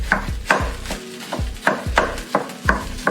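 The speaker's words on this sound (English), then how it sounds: "I'm just gonna add my minced meat in there" Minced meat goes into a pan with beans for stuffed bell peppers. A utensil knocks against the pan again and again in a steady rhythm of thumps and scrapes up close, over a faint sizzle, with no talk.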